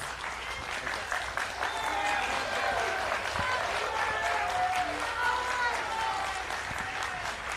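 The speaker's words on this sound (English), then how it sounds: "Round of applause, please, for our candidates, Ginger Cruz and Mike St. Nicholas" An audience at a KUAM News election forum applauds candidates Ginger Cruz and Mike St. Nicholas, a steady dense round of clapping throughout, with some faint tonal sounds drifting above it.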